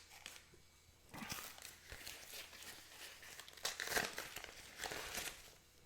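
Taped mail envelope being worked open with a small tool: bursts of crinkling paper and tearing tape, close and fairly quiet, coming in uneven spurts with short pauses between.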